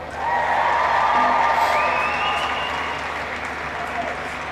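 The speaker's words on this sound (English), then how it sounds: "So a big massive cheer for Brian Cassidy." A large crowd at a ladies' Gaelic football final bursts into loud, sustained applause and cheering, with whoops rising above the clapping throughout.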